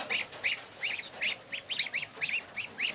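Three goslings and several ducklings peep rapidly and continuously nearby, a busy chorus of thin, high cheeps with no talking.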